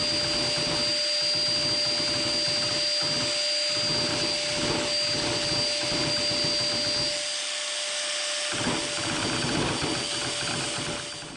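A Biax power scraper works a 24-inch camelback straight edge, giving a loud, continuous motorized buzz with a rapid reciprocating chatter that pulses in short strokes and briefly drops out near the end.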